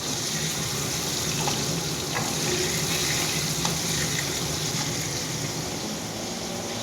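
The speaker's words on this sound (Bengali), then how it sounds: "যদি আওয়াজ পাই, চিমনি চলছে," A kitchen chimney exhaust hood runs during cooking, giving a loud, steady broadband whoosh and hiss that holds evenly throughout without a break.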